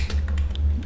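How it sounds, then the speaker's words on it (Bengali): Typing on a computer keyboard: several quick key taps in a short burst, close and clear, with no talking over them. "তো ওয়ার্ডপ্রেস ডেভেলপার দিয়ে যখন এন্টার দিলাম"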